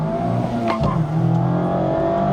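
A 2024 Mazda MX-5 facelift launched hard at about 4,000 rpm with the clutch dropped; a steady, loud engine drone builds continuously under the whole span, with a brief shift-like blip near the start and no talk.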